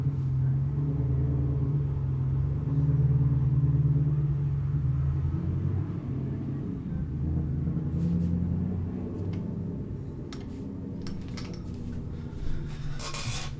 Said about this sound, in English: Damn loud car.